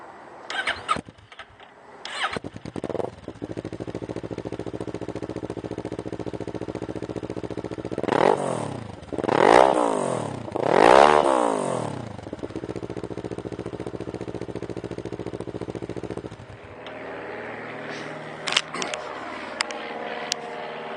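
A used 2009 Kawasaki Ninja 650R twin-cylinder sport motorcycle with an aftermarket Aero exhaust cranks and fires up close, settles into a steady idle, then revs sharply twice before dropping back and shutting off.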